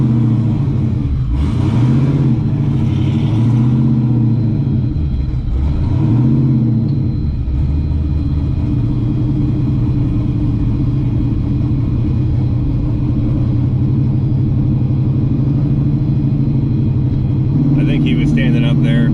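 LS-swapped Cadillac Escalade with a manual valve body driving through Dealey Plaza in Dallas, its steady low engine rumble running throughout, with a couple of revving swells early on and a person talking over it.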